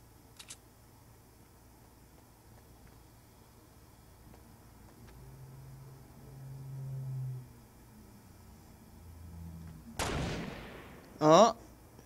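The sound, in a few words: sniper gunfire in a video game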